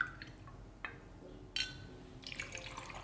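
Gin is poured into a cocktail shaker, a faint, quiet trickle of liquid with small drips and splashes and a brief clink of glass or metal, heard close and alone.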